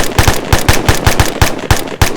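Machine gun fire during close-quarters military training in a built-up area, a loud, close string of about a dozen sharp bursts in uneven rapid rhythm, heard alone without voices.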